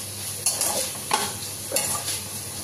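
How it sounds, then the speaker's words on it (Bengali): Chopped carrot, capsicum and onion fry in a pan with a constant sizzling hiss and three distinct spatula scrapes as the vegetables are stirred. "আমি গাজর, ক্যাপসিকাম, পেঁয়াজ কেটে নিয়েছি, ভালো করে একটু ভেজে নিচ্ছি"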